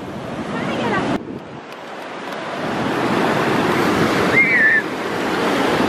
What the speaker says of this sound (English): The ocean's coming to get us.